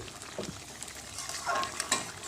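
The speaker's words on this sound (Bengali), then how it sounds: "ফের ভালো করে সবজিটাকে পুরো জিরে বাটা দিয়ে মাখিয়ে দিচ্ছি।" Vegetables are stirred through cumin paste and gravy in a pan, soft scraping and squelching strokes over a low, quiet sizzle.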